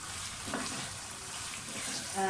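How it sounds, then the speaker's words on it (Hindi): Chicken pieces frying in a pan for palak gosht, a soft continuous sizzle with faint stirring scrapes, close and fairly quiet, over a brief murmur of talk. "इसको 5 मिनट बस फ्राई करें"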